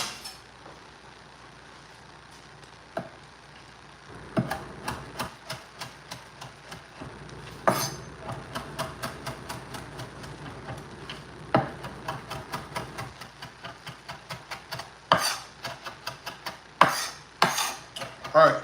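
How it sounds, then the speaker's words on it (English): A knife chops fresh parsley on a board in a home kitchen, first in scattered knocks and then in faster rhythmic runs of sharp taps, close and clear with no talk. "I want to chop a handful of parsley. that I washed earlier."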